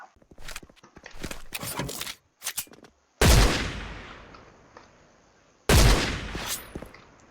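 Sniper rifle fire in the shooter game Special Force: two sharp, loud shots a couple of seconds apart, each with a long decaying echo, after a stretch of quick footsteps and clatter, with no talking.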